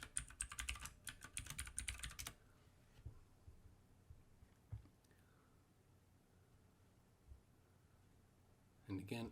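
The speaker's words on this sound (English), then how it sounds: "Type in your password." A computer keyboard clatters with a fast burst of close keystrokes for about two seconds, then goes quiet with a few isolated taps, and another short typing burst returns at the end.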